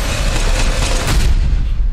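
Gunfire from the John Wick: Chapter 4 trailer, a dense, booming burst of shots and impacts that is loud and continuous for about two seconds.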